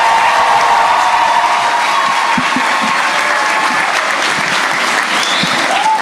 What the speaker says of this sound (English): Ladies and gentlemen, a round of applause for our graduates